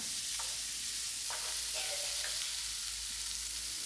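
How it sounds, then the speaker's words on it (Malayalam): Onion and green chilli sautéing in coconut oil for a mixed vegetable masala, giving a steady close sizzle with a few faint stirring scrapes, no talk. "ഉള്ളി, പച്ചമുളകൊക്കെ ഇട്ട് വഴറ്റിയെടുക്കാനുള്ളതാണ്"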